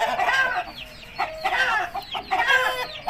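An Aseel hen, a Katmush female, clucks in three short close bursts of rising, squawky calls with brief pauses between them, with no talk.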